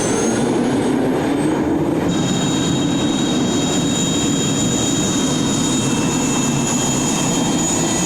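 A Super Frelon transport helicopter turbine powers a pulling tractor at a 1995 European tractor pulling event in Rotterdam's Ahoy arena, producing a loud, continuous roaring whine with a high steady tone throughout.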